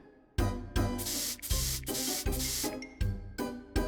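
Repeated hissing spray bursts, about eight short blasts in an uneven rhythm, loud and close, with tonal musical sounds underneath.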